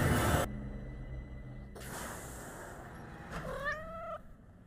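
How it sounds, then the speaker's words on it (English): Lothal cats from the Star Wars series Ahsoka meow and yowl among soft whooshing effects, ending with a clear drawn-out rising meow, no talking over it. "These Lothal cats are so adorable."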